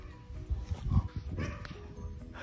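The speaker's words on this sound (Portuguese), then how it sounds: "vê esse cachorro" A dog on a rural farm property, making short vocal sounds at close range amid outdoor background noise, with a person speaking nearby.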